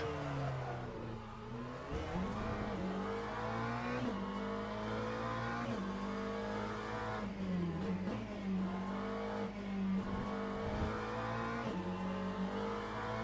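Race car engine in a racing game at Fuji Speedway, revving steadily with rising and falling pitch over about thirteen seconds, loud and continuous, with no talk.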